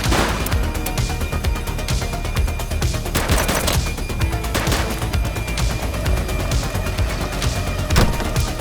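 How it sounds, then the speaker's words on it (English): Sustained gunfire in the police game The Precinct on a PS5 Slim, with loud repeated shots and bursts crackling over a constant background of action noise. "He's shooting!"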